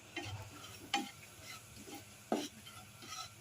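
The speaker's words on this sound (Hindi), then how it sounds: "अब इसकी हम हल्की सी भुनाई करेंगे।" Semolina roasting in hot oil, a quiet, soft crackle punctuated by a few distinct spoon scrapes and taps against the pan, close but faint.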